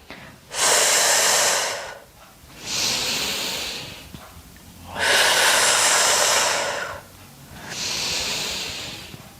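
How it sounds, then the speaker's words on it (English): Four long, loud breaths in a steady rhythm during a postpartum core strength workout, each a broad airy rush separated by short pauses, close to the mic with no talk. "Really get into a rhythm with your breath here."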